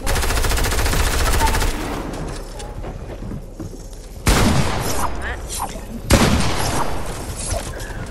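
Rapid automatic gunfire rattles in a Fortnite-style trio zone wars match, loud close bursts of continuous shots with brief pauses between volleys, while players talk excitedly over the action.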